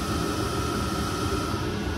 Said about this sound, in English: Some kind of pump.